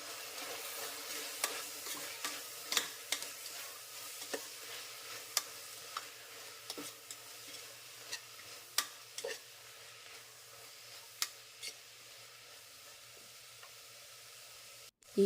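A spoon stirs and mixes salted fenugreek-leaf and field-bean food in a pan, producing irregular soft scrapes and clinks every second or so over a faint quiet sizzle, with no talking.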